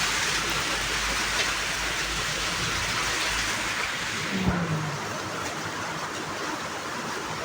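Heavy rain pours down in Rangpur, a dense, steady outdoor hiss that fills the whole stretch at an even level, with a faint brief tone partway through.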